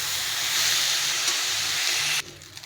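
Home parboiled rice and lentils for khichuri being dry-fried in a pot, giving a loud, even, close hiss that runs unbroken for about two seconds and then drops off abruptly.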